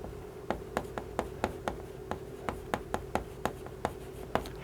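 A pen sketches an x–y graph on paper by hand, giving about fifteen quick, crisp scratching strokes in an irregular rhythm, close and fairly quiet.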